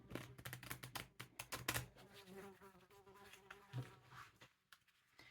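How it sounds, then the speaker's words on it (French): A housefly buzzing close by near an open window, its whine rising and fading in short bursts over a few seconds, mixed with light tapping clicks and no voices. "elle se trouve dans le courant d'air, cette mouche"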